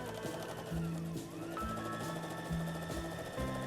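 Sewing machine stitching the side seams of a structured fabric bag: a quick rhythmic mechanical chatter with a low motor hum, running steadily at moderate volume.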